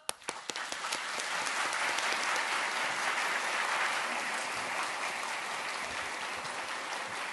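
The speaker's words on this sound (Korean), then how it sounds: "이기원 요한집파장님 큰 박수로 모시겠습니다" A large church assembly in Suwon breaks into loud applause to welcome a speaker, beginning with a few sharp claps and swelling into a full, steady ovation that holds throughout.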